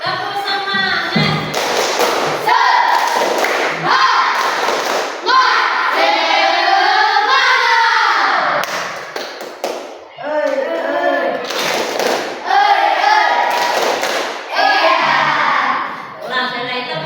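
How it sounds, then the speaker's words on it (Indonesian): A classroom of students performs a rhythmic spirit clap, with sharp bursts of group clapping in a repeating pattern alternating with loud chanted voices close by. "Tepuk semangat."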